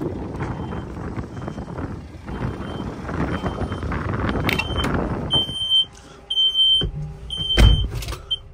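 Warning beeps from a tractor with its parking brake not applied, out on a farm during wheat sowing: a string of sharp, evenly spaced electronic tones cutting in over a steady engine rumble and general work noise in the second half.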